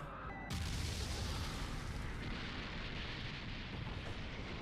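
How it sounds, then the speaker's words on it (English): A loud explosion from a One Piece anime episode bursts in after a brief quiet start, then rumbles on as a sustained, dense roar that carries through to the end. "It's gonna explode."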